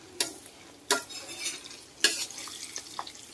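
A utensil stirs onion paste into bitter gourd frying in a pan: three loud scraping strokes over a soft steady sizzle, close and without talk.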